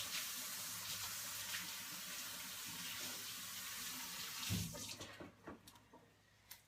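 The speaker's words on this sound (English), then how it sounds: "I'm going to wash my hands" A kitchen tap runs steadily for handwashing, a close, continuous splashing rush that breaks into softer trickles and drips as it shuts off near the end.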